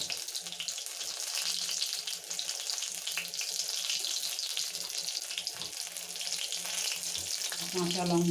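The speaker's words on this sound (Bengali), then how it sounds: "তো এই যে ভাজতে আরম্ভ হয়ে গেছে।" Bok flower fritters fry in a pan of hot oil, making a steady, even sizzle that continues alone and fairly quietly throughout.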